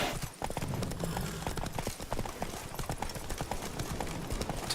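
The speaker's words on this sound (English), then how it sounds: "Whoa there, Roach." Horse hooves clip-clopping at a steady trot in The Witcher 3: Blood and Wine, rhythmic and moderately close on dirt, with a faint whinny-like sound near the start.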